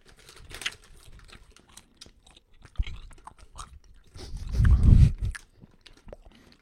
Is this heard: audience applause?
no